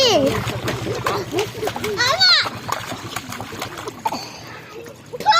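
A child bathing in a stream sends up repeated splashes and sloshes of water, near and lively, while children and adults talk and call out over it throughout.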